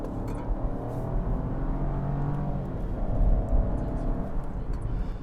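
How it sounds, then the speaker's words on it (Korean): A Chevrolet Trax pulls hard at full throttle on a highway, a steady broad engine and road roar swelling slightly midway, continuous and close from inside the cabin with no talking. "지금도 엑셀을 끝까지 한번 밟아보면"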